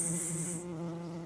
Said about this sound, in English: Thousands of bees fly out of the smashed beehive.